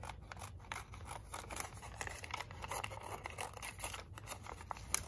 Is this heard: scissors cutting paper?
yes